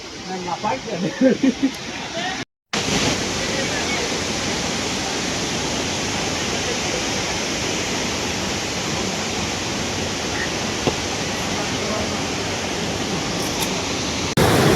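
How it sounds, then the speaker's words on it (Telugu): Tarabu waterfall in the hills pours down with a steady, loud rushing roar, close by and unbroken except for a brief gap near the start. "సో వాటర్ ఫాల్కి వచ్చినాం కిందకి."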